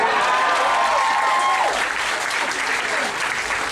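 Comedy club audience in Malaysia clapping in agreement with a stand-up comic, a steady, loud burst of applause with some crowd voices mixed in and a brief whistle-like tone early on.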